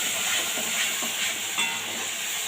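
Water poured into hot homemade spice masala in a pan on the stove, giving a steady broad hiss and sizzle throughout, with steam-like noise and faint crackles.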